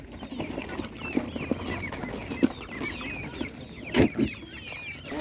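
Chickens clucking and chirping all around at a village animal market, with young roosters' short calls and scattered pecking noises, busy and close.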